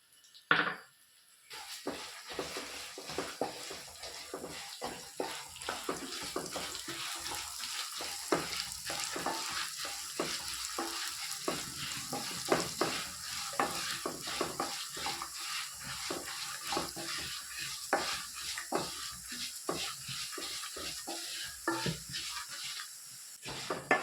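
Coriander seeds and chili dry-roasting in a pan, giving a steady close crackle of rattling, popping seeds with repeated scraping stirs throughout, and no voices.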